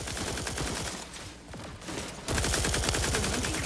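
Turrets in The Outer Worlds 2 open fire in a steady rapid stream of loud, close automatic shots, dipping briefly mid-clip before a heavier burst takes over.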